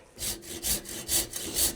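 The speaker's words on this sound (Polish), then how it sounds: "Drobny ząbek, elegancka piłeczka. Ale idzie, pół centymetra na posób. Szwedzka piła." A fine-toothed Swedish hand saw cuts through wood in four rhythmic, rasping strokes, close and clear with no talking.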